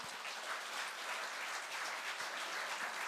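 An audience applauds at a university graduate school of labor evening event in Korea, a steady dense clapping sustained throughout with no speech.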